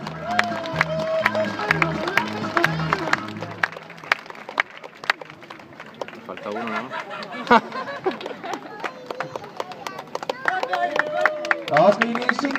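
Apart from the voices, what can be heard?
audience applause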